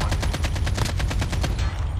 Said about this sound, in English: Someone's sniping.